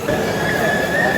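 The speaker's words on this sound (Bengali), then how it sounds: "সামনে আমাদের ট্রেন দাঁড়িয়ে আছে" The non-stop Paryatak Express train stands at Cox's Bazar railway station, giving off a steady, fairly loud rumbling hum with a faint whine that runs unbroken through the short stretch.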